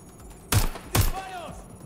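Two loud, booming gunshots in the video game Watch Dogs: Legion ring out about half a second apart, each followed by a ringing tail, with a voice speaking faintly underneath.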